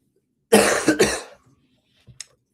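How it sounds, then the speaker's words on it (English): A single dry cough, close and loud, comes as two quick harsh bursts, followed by a short quiet pause and a faint small throat sound. "I got this dry cough going on here"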